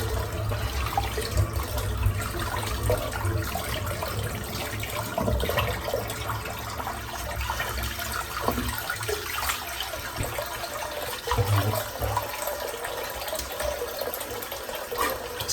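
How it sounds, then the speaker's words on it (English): Running tap water rinses a razor in a sink, with a steady rushing stream and faint splashes continuing throughout, close and with no talking. "I'm just going to rinse this out now."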